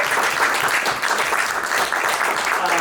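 A theatre audience applauds at the end of a play, a dense, steady wash of many hands clapping together, loud and close, sustained without pause for nearly three seconds.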